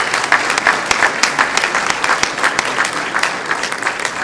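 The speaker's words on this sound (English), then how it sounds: "So we need a round of applause for Doreen." A room full of people applauds Doreen at a class reunion gathering, a steady dense patter of clapping close by for a few seconds with no talk over it.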